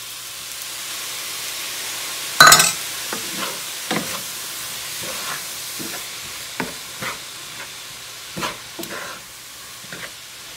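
Food being stirred in a pan after soy sauce goes in, with a soft steady sizzle broken by a sharp scrape and a scatter of light clinks and taps.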